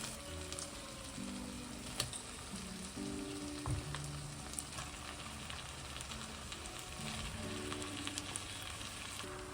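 Meat frying with spices on a high flame, a soft, steady sizzle with occasional stirring clinks, fairly quiet, under a layer of background music.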